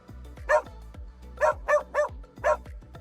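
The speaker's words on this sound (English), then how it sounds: "So we got that dog barking for 3 seconds." Synthetic dog barking, five sharp barks in two groups: a single bark, a pause, then a quick run of three and one last bark, loud and close against a low background hum.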